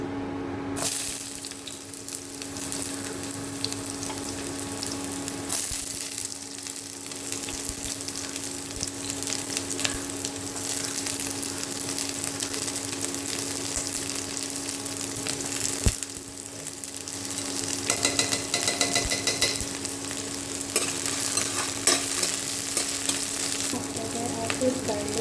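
Onions frying in smoking-hot oil for Manipuri chagempomba, a dense, steady crackling sizzle close by that swells slightly toward the end, with occasional stirs and no speech.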